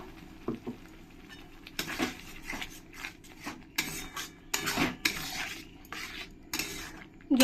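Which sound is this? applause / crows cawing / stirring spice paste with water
stirring spice paste with water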